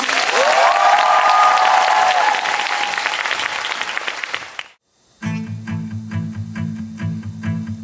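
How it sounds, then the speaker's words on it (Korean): Audience at a musical theatre festival applauding loudly and steadily for several seconds, with a few cheers near the start, fading out before music begins under the clapping's end. "박수로 청해볼까요?"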